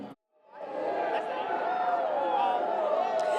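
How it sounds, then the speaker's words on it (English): A large arena crowd at WWE SmackDown roars and chants for favorite wrestlers, a dense sustained swell of many voices that rises after a brief gap and stays loud and steady. "you can hear those chants starting already for some of their favorite wrestlers"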